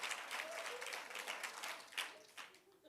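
A church congregation applauds, dense steady clapping from many hands at a moderate distance, fading slightly toward the end.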